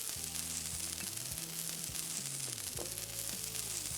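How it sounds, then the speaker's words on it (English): Finely cut chicken flash frying in a hot pan, a steady close sizzle with no voices over it. "So it's going to flash fry very quickly because I cut it quite finely"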